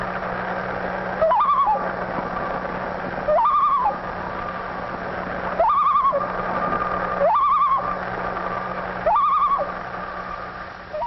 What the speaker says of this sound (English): Listen to the call of the loon.